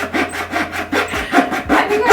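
A hacksaw makes loud, rasping back-and-forth strokes close by, about four even strokes in a steady rhythm with no voices.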